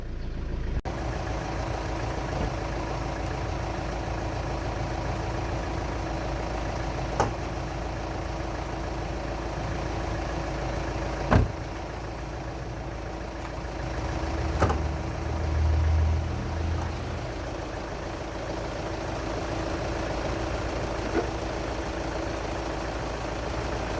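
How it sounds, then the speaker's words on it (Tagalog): A Mitsubishi Strada pickup truck engine with a fuel leak and hard-start problem idles steadily with a low, even rumble, with a few faint knocks and bumps scattered throughout and no talking. "So kita natin yung makina na okay naman yung andar."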